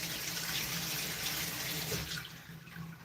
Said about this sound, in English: so sorry about the faucet.